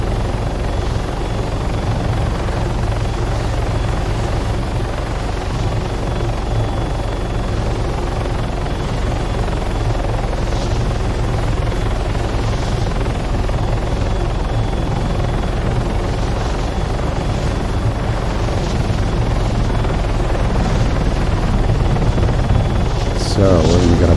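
A helicopter flies in a zombie video game scenario, its rotor drone loud, steady and close for the whole stretch with no break.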